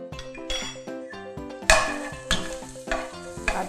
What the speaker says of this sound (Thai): เจียวกระเทียมนะคะใส่กระเทียมใส่พริกลงไปเลยค่ะ เจียวให้เหลืองหอมนะคะ